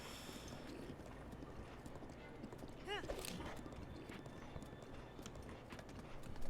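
A horse runs across Hyrule Field in Breath of the Wild, its hooves beating a steady rhythmic clip-clop throughout, with a brief whinny partway through and faint wind and ambience underneath.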